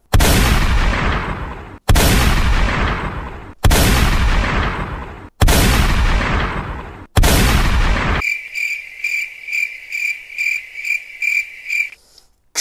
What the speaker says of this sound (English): Pico, shoot him!